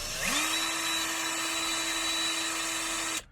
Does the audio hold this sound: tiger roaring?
no